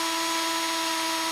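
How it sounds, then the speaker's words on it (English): A small drill bit bores through tack welds on a 2018 Ford Explorer during base plate installation, a loud steady high-pitched whine held throughout the short burst, close to the microphone. "I'm going to just take a small drill bit, drill right through the center of each of them"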